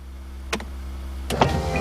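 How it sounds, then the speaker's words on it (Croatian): A cartoon car's convertible roof lowers at the press of a button, heard as two short electric motor whirs, each under a second, against a steady low hum, with no talk. "Možemo li opet spustiti krov?"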